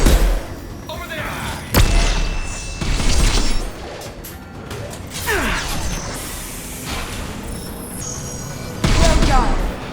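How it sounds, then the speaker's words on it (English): Heavy gunfire and explosions in the sci-fi video game Mass Effect 2 come as loud bursts, booms and whooshes spread through a combat scene, with voices speaking among them. "Taking heavy fire!"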